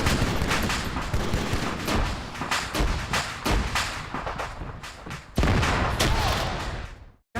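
Gunshots during a military field training exercise: loud, dense, rapid bursts of firing and thuds run almost nonstop, then cut off abruptly near the end.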